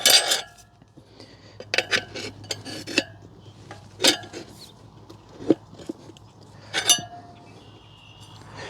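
Metal tire spoon with a hooked tip levering a tire bead onto a motorcycle rim during a TUbliss install, giving sparse sharp metallic clinks and scrapes at uneven intervals, close up and fairly quiet.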